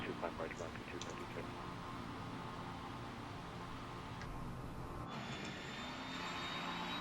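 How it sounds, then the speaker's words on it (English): An airliner auxiliary power unit in Microsoft Flight Simulator 2020 spins up with a steady, continuous turbine whine over a broad airy hiss. "You hear the APU starting."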